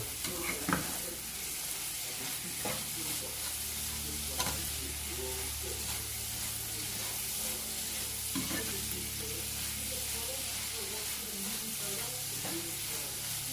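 Anchovies sizzle and crackle steadily in hot oil as they are stir-fried for sambal. A utensil scrapes and clatters against the pan now and then, and the frying noise continues unbroken.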